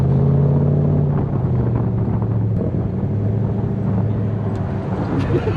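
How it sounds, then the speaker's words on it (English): Steady road rumble and wind buffeting while riding in the open bed of a pickup truck, a continuous low engine and tire drone with wind noise on the microphone and no talk. "riding in the bed of a truck."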